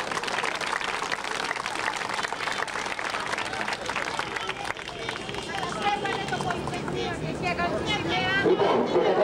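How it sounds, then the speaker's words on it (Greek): Crowd at a street protest outside the Greek parliament in 1997 applauding the doctors, sustained dense clapping and cheering that swells louder toward the end, with crowd babble mixed in. "Ένα χειροκρότημα στους γιατρούς"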